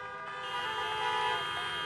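Many car horns honk at once at an outdoor drive-in campaign rally in Pittsburgh, Pennsylvania, a dense, continuous chorus of overlapping toots that stays loud for the whole stretch, with no voices.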